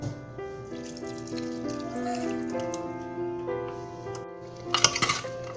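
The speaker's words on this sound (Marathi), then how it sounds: "साधारण अर्धी वाटी आपल्याला यात पाणी घालायचे." Water is poured into a pan of ivy gourd curry with red chili, jaggery and crushed peanuts, a steady trickling pour with a brief clatter near the end, close and moderately loud.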